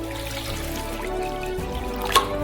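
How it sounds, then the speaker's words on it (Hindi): Tap water runs steadily into a saucepan in a kitchen while potatoes are prepared for boiling, a continuous close pouring rush with a faint clink near the end and no talk. "इसलिए हम सल्लियों को पानी से भरते हैं"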